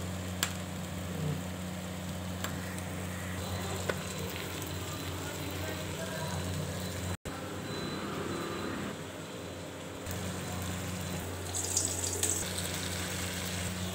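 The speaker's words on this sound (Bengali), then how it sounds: "একটু জল দিয়ে দিচ্ছি, দেখুন মাছে।" Water hits a pan of fish cooking for a Bengali paturi dish, giving a steady watery hiss and sizzle with a brief break midway and faint clinks, no speech.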